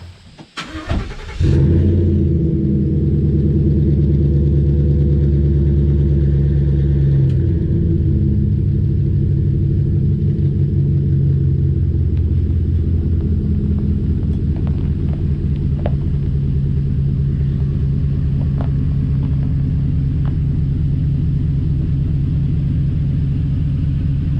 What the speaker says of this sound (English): we're gonna go for our first test drive to make sure it gets up to temperature properly and runs good